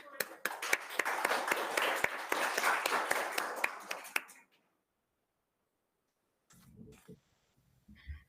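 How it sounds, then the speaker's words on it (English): Sharp, distinct claps from an audience at a commemoration ceremony ring out steadily for about four seconds and then stop. Silence follows, then a voice begins speaking. "Please give her a clap"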